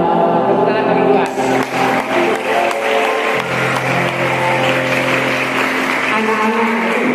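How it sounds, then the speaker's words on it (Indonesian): Congregation clapping in church, a dense patter of hands running steadily under loud worship music and singing, with voices carried along throughout. "Tepuk tangan bagi Tuhan."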